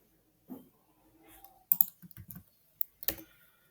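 Someone types a search on a computer keyboard: a few quiet, scattered key clicks and taps, sparse and close, with a brief burst of quicker strokes near the end.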